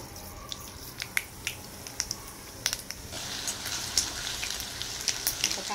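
Half a spoon of mustard seeds sizzles and crackles in two spoons of hot oil for kulith pithi. Scattered sharp pops over a soft hiss grow denser and brighter midway.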